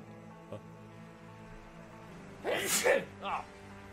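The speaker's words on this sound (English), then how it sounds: "Hang on 1 second, sorry, just going to sneeze." A single sneeze bursts out close to the mic during a quiet moment, followed by a smaller breathy aftershock and set against faint background sound.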